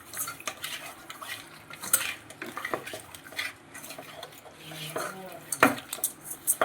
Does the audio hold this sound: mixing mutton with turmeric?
yes